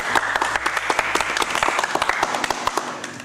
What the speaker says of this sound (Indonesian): Yeay, tepuk tangan sekali lagi.